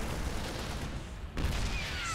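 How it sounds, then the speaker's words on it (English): Siege tank shelling a Protoss photon cannon in StarCraft 2 on Port Aleksander: dense, rumbling game explosions and gunfire fill the clip, with a heavy boom near the middle, loud and continuous. "Tank taking down the cannon and the pylon, and the Marines helping with that one too."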